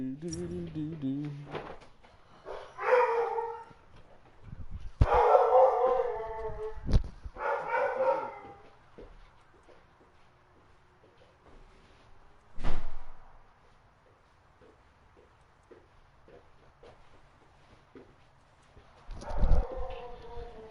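Several household dogs bark in loud, harmonic bursts, a cluster of barks early on followed by isolated outbursts separated by quiet stretches, with faint talk in between.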